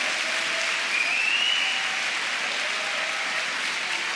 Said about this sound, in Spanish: Vamos, dale palmas al Señor.